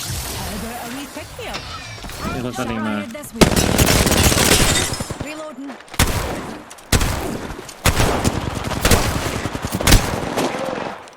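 Enemy gunfire in Apex Legends rattles in fast bursts and sharp single shots, loud and close, over in-game character voices and callouts.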